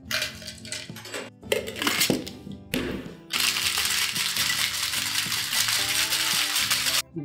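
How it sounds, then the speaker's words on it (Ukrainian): Cocktail shaker with ice being shaken after adding orange liqueur, lemon juice and sugar syrup: a few loud clacks, then a steady close rattling of ice inside the shaker, continuous until it stops abruptly. "І тепер додаю лід і знову шейкую."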